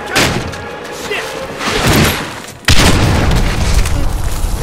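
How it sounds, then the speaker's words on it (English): A grenade blast in the military shooter Medal of Honor Warfighter lands as a loud, heavy boom partway through, followed by sustained rumbling gunfire-like noise and battle ambience, with no clear speech. "Grenade."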